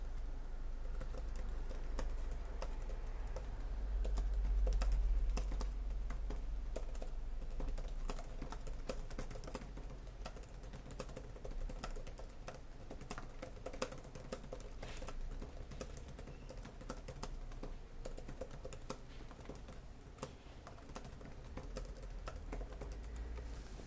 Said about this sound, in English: how well could I type on this keyboard? Well, let's take a look and a listen.